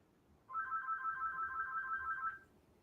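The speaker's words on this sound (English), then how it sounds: "I'm not used to the phone line ringing" A phone line rings on a call-in radio broadcast, one continuous electronic ringtone warbling for about two seconds at moderate volume, then cutting off, with no voices over it.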